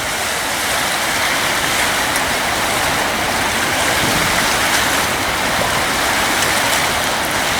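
Floodwater from Cohoes Falls pouring over a spillway dam after a storm, a steady, dense, loud roar of rushing water with no pauses and no voices.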